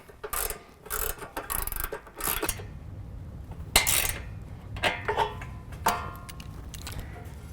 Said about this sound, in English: then tighten down with a 13 millimeter on the top